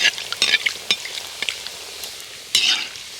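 Rice flour snack balls deep-frying in hot oil, a steady crackling sizzle with sharp clinks and scrapes of a utensil swirling the oil, one louder burst of bubbling near the end, no voices.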